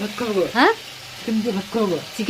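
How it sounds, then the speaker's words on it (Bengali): Chicken sizzles in a hot pan with a steady hiss, frying before spices are added, while a person talks over the frying. "এখন তো শুধু ভাজা হচ্ছে এখন মশলা বাকি আছে"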